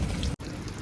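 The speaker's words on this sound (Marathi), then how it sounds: "आज नुसता पाऊस पडतो आहे" Steady rain falls through a wet, waterlogged day with puddles forming, a dense close patter holding through the clip apart from one brief silent cut.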